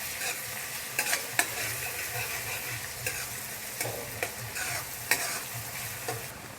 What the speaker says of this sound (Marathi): एकदम गोल्डन ब्राऊन होईपर्यंत फ्राय करून घ्यायचा आहे कांदा.